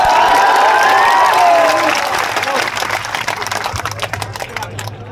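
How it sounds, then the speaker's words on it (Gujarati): Crowd applauding to welcome a woman being honored with a turban at a public gathering, loud dense clapping with cheering voices over it, easing off slightly toward the end. "તાળીઓના ગગડાથી સ્વાગત."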